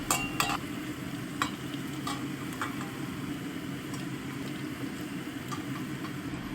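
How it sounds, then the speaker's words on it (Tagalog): Spam frying in a little cooking oil in a pan, a soft steady sizzle with occasional sharp ticks and pops, faint and close, no talking. "After a minute, lagay nyo na yung spam. Konting prito lang yan,"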